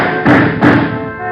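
Gas gun firing tear gas shells in a radio drama, two quick muffled thumps about a third of a second apart, close and fairly loud, with a steady hum underneath.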